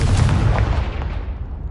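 A Confringo fire spell exploding in Hogwarts Legacy: one loud, close, deep boom that rumbles and fades over a second and a half.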